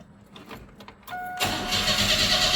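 A 1998 Chevrolet S10 pickup engine cranks briefly after quiet clicks, then catches and settles into a close, steady idle.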